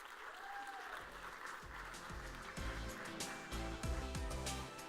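An audience claps for the panelists at a SXSW food summit session, with dense, steady applause swelling slightly toward the end, close and filling the room.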